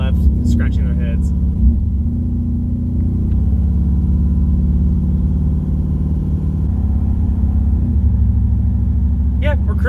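A cammed Chevrolet Caprice PPV cruises at about 50 mph, its engine a steady low rumble with road noise filling the cabin while someone talks over it.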